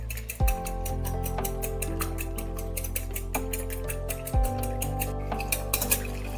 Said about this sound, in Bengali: এবার ডিম দুটোকে ভালোভাবে ফেটিয়ে নিতে হবে